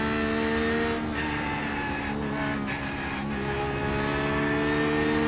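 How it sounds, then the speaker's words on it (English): Steady, loud race-car engine drone from a Porsche 911 GT3 R in the iRacing sim at the Red Bull Ring, humming evenly throughout with brief shifts in tone and no talking. "I quite like the sound of the car"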